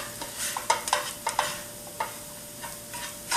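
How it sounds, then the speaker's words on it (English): TVP cooks in a pan for vegan lettuce wraps while a spoon stirs it, giving repeated light scraping strokes over a continuous gentle sizzle, close up with no voices. "we'll just continue to stir it"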